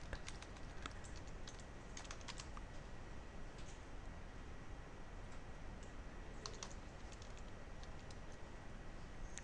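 Faint keystrokes on a computer keyboard come in short clustered bursts of soft clicks during firewall setup, with a steady background hiss and no talking.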